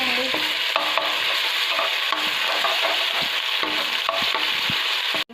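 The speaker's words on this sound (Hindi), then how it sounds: "अब लहसुन अदरक का पेस्ट डाल देंगे और इसको मिक्स कर देंगे।" Garlic-ginger paste frying in hot oil for Shinwari beef, stirred with a utensil: a steady, loud sizzle with clicks and scrapes of the spoon against the pan throughout, no voices.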